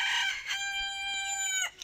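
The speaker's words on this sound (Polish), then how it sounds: "Ten biały bez ogona to chyba kogut" A rooster crows once, loud and close, with a long drawn-out call that breaks off abruptly at the end.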